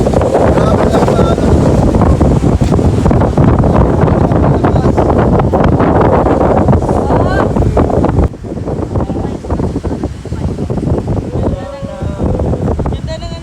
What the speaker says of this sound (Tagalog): Lakas mo ng alon.